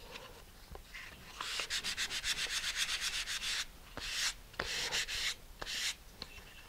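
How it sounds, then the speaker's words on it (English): Laser-cut model rocket fin tabs sanded with medium grit sandpaper: rapid rhythmic scratchy strokes in a quick burst, then several longer rasping passes with brief pauses between, close and fairly loud, no talking. "I want to just sand those little tabs off, do all four edges."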